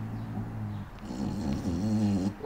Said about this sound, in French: tu ronfles